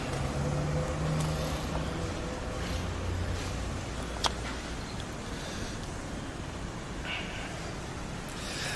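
Small 660 cc kei car engine running, a steady low rumble with road and wind noise, fairly close and continuous, with a brief click partway through.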